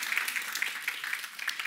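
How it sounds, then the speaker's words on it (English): A church audience claps together, a dense patter of many hands at moderate, steady loudness with no talk over it. "You can all clap"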